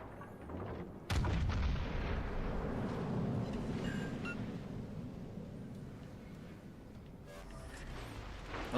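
Secondary guns on a warship in World of Warships: Legends fire in a loud, sustained barrage of booming gunfire. The roar comes on abruptly and keeps rumbling without spoken words.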